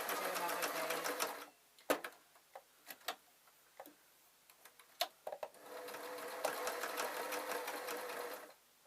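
A sewing machine stitches a V on a fabric scissor case in two close, steady whirring bursts, with a run of quiet ticks and clicks between them.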